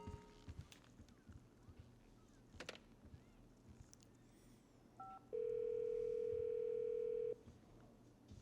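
A telephone dial tone sounds steadily for about two seconds, loud and alone, after a short beep or two and against a background of faint clatter and noise.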